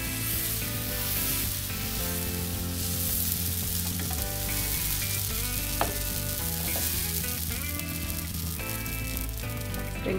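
Dosa batter sizzles and fries steadily on a hot pan, a continuous close crackle that runs under faint background music with no pauses.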